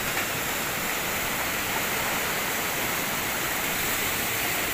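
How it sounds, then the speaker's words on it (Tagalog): Steady rushing water noise from choppy waves on a river flowing toward the sea, the broadband wash constant and fairly close with no talk over it. "Wala naman hangin pero maalon"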